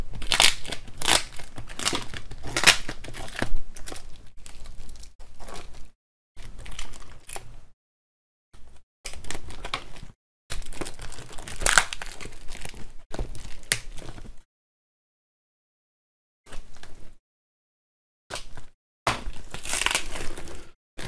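Heavily taped cardboard packaging being torn open while unboxing an AIFEN A9 soldering station, with close, loud bursts of ripping, crinkling and crunching separated by pauses and stretches of silence.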